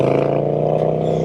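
A Triumph Speed Twin 1200 motorcycle fitted with an Italian Zard exhaust pulls hard under throttle, its strong harmonic engine drone loud and steady throughout with a brief swell at the end.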